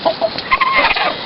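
Chickens clucking with a rooster among them in a backyard flock, several short squawks and clucks overlapping at close range, with no talk.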